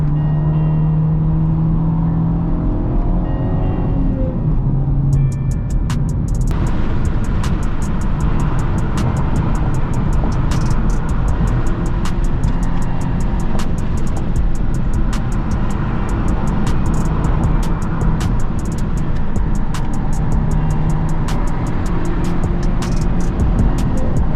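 A Honda Civic Type R FK8 engine roars steadily close by, revving and pulling hard under load in third gear, with a continuous low rumble and road noise throughout.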